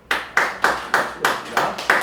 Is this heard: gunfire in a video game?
no